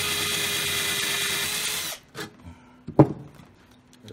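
A power drill runs loud and steady for about two seconds, drilling out rivets on a stove blower fan kit for a Lopi, Avalon or Travis unit, then winds down and is followed by a few short knocks and a sharp clank.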